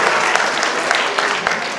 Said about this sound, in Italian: Un applauso a Marco Cimberto